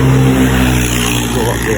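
Highway traffic with car engines droning steadily and nearby, a continuous loud motor hum as vehicles travel along the road.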